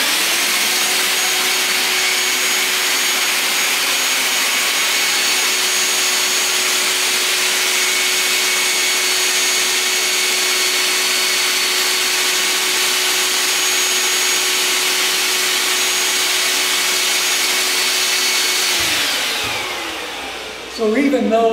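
An air blower roars steadily and loudly, keeping a globe ball suspended in midair even when aimed at an angle, before cutting off near the end.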